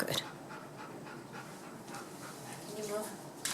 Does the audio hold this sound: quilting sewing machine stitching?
no